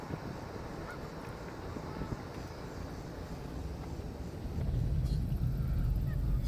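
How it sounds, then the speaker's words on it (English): Geese honking in the distance by a lake at a Nebraska campground, over a steady low rumble of traffic, which grows louder toward the end. "Quite a few geese."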